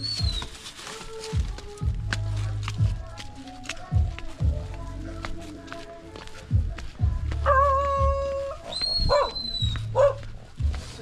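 Dogs bark repeatedly on a muddy village path, with a series of loud, close barks and yips spread across the whole stretch. A few faint footsteps and birdcalls sound in the background.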